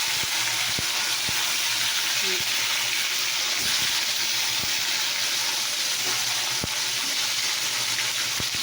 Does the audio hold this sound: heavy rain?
no